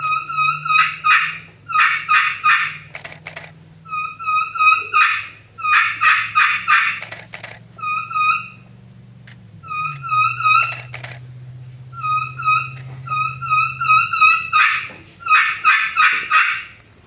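A friction turkey call imitating a hen's plain yelp in a calling contest, with bright, rhythmic runs of sharp yelps in bursts over a low steady hum, close and loud.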